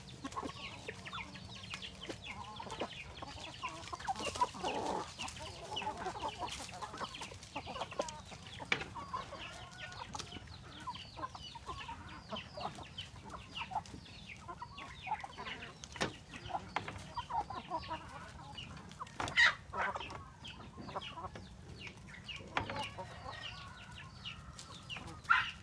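Meat-type chickens on a small poultry farm give a continuous low chorus of clucks and murmurs, fairly faint and even throughout, with scattered sharper calls and no talk.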